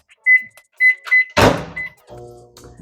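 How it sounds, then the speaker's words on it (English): A kitchen microwave oven is started: a few short electronic beeps, a sharp door thunk, then a low, steady humming drone that continues to the end. "So let me throw this in the microwave."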